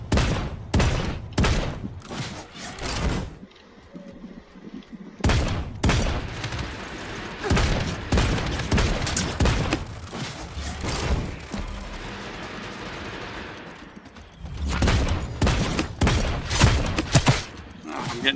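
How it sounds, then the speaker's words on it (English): Heavy gunfire in the battle royale game Realm Royale crackles from several directions in dense, repeated bursts with brief lulls, loud and close, while a player talks over the shooting. "getting shot from both sides here"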